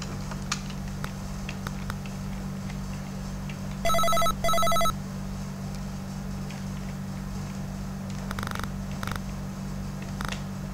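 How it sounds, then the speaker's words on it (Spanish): A telephone rings in a room in two short bursts of rapid electronic trills close together, then fainter repeated chirps follow later over a steady low electrical hum and a soft purring murmur. "ahí está el teléfono, ahí suena"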